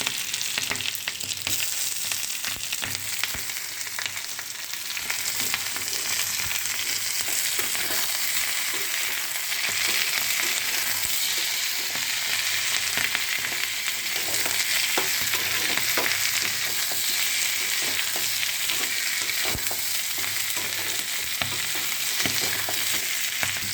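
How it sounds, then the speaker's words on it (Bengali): Vegetables and tomato stir-frying in a wok for chowmein give a steady, loud sizzle with scraping stirs throughout, no voices. "এগুলো ভাজা ভাজা হয়ে গেছে। এবার আমি টমেটো দিয়ে দেবো।"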